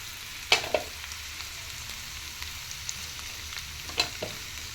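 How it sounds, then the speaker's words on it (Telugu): Cut capsicum pieces sizzle faintly in a pan, with a soft steady frying hiss and a few sharp clinks of a utensil against the pan. "దీనిలోకి ఇప్పుడు మనం కట్ చేసి ఉంచుకున్న క్యాప్సికమ్ ముక్కలు వేసేసుకుందాం."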